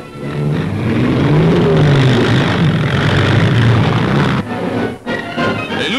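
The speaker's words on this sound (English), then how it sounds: "At every point, American trucks and guns move in." Engines of American military trucks moving in during the 1942 WWII landing in North Africa, a steady loud rumbling drone of vehicles that drops away near the end.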